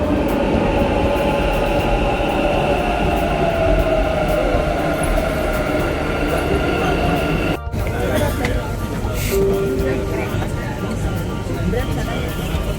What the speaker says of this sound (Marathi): हे आले आपले मेट्रो.